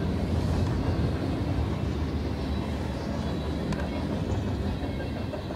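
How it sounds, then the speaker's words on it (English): Two BNSF freight trains rumble past close by, a dense, steady roar of rolling cars with faint metallic squeals. "Wow, dual trains, dude."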